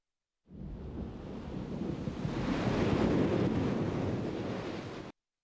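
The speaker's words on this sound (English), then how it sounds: "Never underestimate the power of waves." Ocean waves in the video game Microsoft Oceans, a broad rushing surge that swells in the middle and cuts off abruptly, loud and close with no voices.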